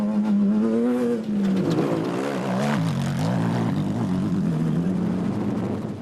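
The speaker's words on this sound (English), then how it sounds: "Mark Corbett and Rudy Balzar took the Century Racing CR2 ahead of the Leith brothers in the Transcorp Ford Ranger" Century Racing CR2 off-road race car powering along a track in the Magalies 400 race, its engine droning loudly and steadily throughout with shifting revs and no talk.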